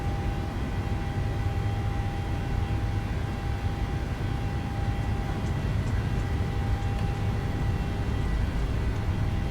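Airliner engines in Microsoft Flight Simulator spooling up to takeoff thrust, a steady loud broadband roar with a faint whine held throughout, no voices.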